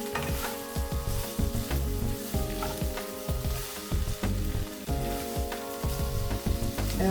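Onions sizzling loudly in a pan while being stirred, a close continuous frying crackle broken by regular rhythmic scrapes of the spoon, with no talking over it.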